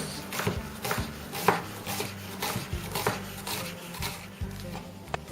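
A knife chops dry onions into fairly coarse pieces on a board for a heart casserole, making a steady run of crisp, close chops about twice a second.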